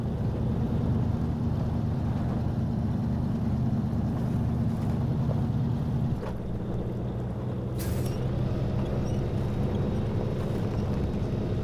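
A Fleetstar truck engine in the game Snowrunner strains in all-wheel drive, a loud, steady low rumble that drops slightly in pitch partway through and carries on without talk.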